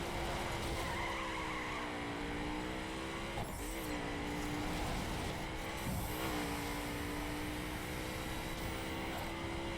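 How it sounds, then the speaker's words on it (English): Tires squeal as a car drifts in the racing game The Crew, with a steady engine drone underneath and a few sharp dips and shifts as the slide changes, loud and continuous throughout. "Perform 30 awesome drifts."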